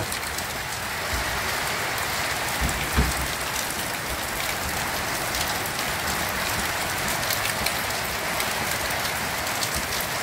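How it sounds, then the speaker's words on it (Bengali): Heavy rain pours steadily on a tin roof, a dense hiss of drops pattering on the metal with occasional louder thuds, no voices. "প্রচণ্ড পরিমাণে বৃষ্টি হচ্ছে।"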